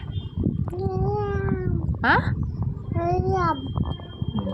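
A small child makes several high, drawn-out meows in imitation of a cat, the cries rising and falling with a quick squeal in the middle.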